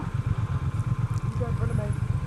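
A Triumph Bonneville T120 motorcycle engine rumbles steadily with a throbbing exhaust note while riding on the road, loud and continuous, with wind noise and someone talking over it.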